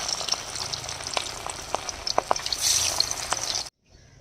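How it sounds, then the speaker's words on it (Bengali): Fish sizzles in hot oil in a wok over a wood fire, a dense steady hiss with scattered crackles and pops that swells briefly before cutting off abruptly near the end; no one speaks. "এই যে এবার তেলে দিয়ে দেওয়া হচ্ছে মাছটা"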